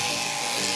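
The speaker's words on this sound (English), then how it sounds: "shearing demonstrations," Electric shears buzz steadily and loudly at a sheep shearing demonstration at an agricultural show.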